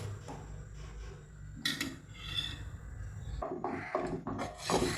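Hair oil with rosemary and curry leaves being stirred in a pan on a stove, giving soft scraping and clinking of a utensil against the vessel, with a few louder rubbing strokes near the end.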